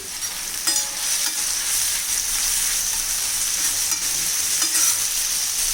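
Chopped onions sizzle steadily on a hot iron tawa while mutton liver is cooked, a bright, even frying hiss with a few light stirring scrapes, close and unbroken, with no talking.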